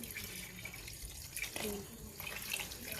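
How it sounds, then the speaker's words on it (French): Water splashes and gurgles as it is poured into a cooking pot while preparing banana foutou with palm-nut sauce, a brief, fairly faint pour close by. "Je vais compléter de l'eau un peu encore."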